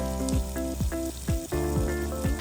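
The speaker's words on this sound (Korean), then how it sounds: "지글지글 한 판 굽고 또 굽는 중이에요" Meat sizzling on a grill at a campsite, a steady close frying hiss with occasional sharp pops and clicks, continuous through the moment with no voices.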